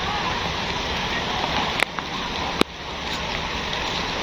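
Rain falling near a tea plantation at Pangalengan, a steady broadband hiss with a couple of brief sharp knocks, continuous and fairly close throughout.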